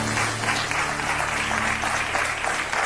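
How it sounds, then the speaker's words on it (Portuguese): Studio audience applauding on a Portuguese TV afternoon talk show, a full, loud burst of clapping with steady crowd wash and no talk on top. "Um aplauso para os 3."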